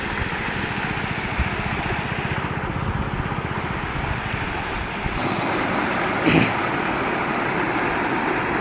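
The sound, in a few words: water rushing over pond spillway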